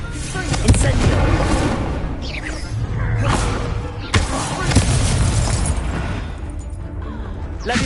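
Incendio fire spell cast in Hogwarts Legacy: loud booming whooshes and fiery bursts with sharp impacts near the start and middle, rumbling and layered like close explosions amid game effects.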